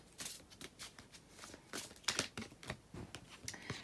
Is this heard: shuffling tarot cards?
yes